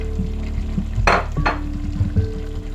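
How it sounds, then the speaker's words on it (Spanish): Peas are dropped into a pot of simmering beef stew with prunes. Two quick rattling pours land close together over a low bubbling sizzle, followed by faint clinks of the pot. "vamos a agregarle los guisantes"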